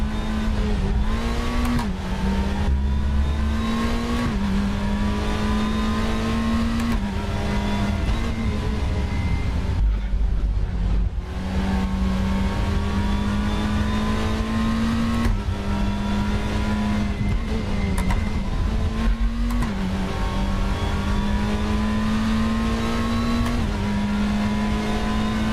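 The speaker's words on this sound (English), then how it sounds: "The engine sound could be a bit better." A race car engine in the RaceRoom racing game drones loudly and steadily, its pitch climbing and dropping repeatedly through gear changes with brief lifts, continuous for about twenty-five seconds.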